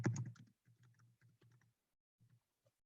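Typing on a computer keyboard: a short run of light, close key clicks in an uneven rhythm, trailing off into a few last taps.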